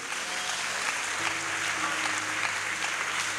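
A church congregation claps together in steady, dense applause that fills the room evenly from start to finish, with a faint low hum running underneath.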